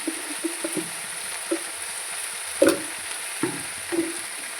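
Water spinach greens seasoned with salt and turmeric sizzle softly in a pan, with a few scattered scraping stirs of a spatula standing out over the low, steady frying hiss.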